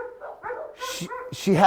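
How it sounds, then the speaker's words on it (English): Dogs bark and yip at a home with a renovated backyard patio and grill, a few sharp close barks mixed with someone talking over them. "sorry about the dogs."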